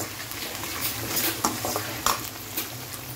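Seeds frying in oil with salt for lemon rice: a steady close sizzle with spatula stirring and a few sharp clinks against the pan.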